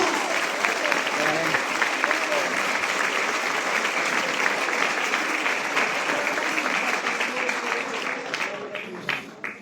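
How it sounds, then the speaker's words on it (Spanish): A church congregation applauds during a Spanish-language sermon, dense sustained clapping from a crowd that carries on for several seconds and then tapers off at the end. "Aplauda el nombre de Jesús"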